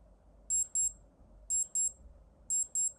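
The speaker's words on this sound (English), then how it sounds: "So this is what the alarm will sound like." Alarm on a 1983 Casio Blue Thunder digital watch, sounding in three evenly spaced bursts of two sharp high-pitched electronic beeps each, close and clear against a quiet room hum.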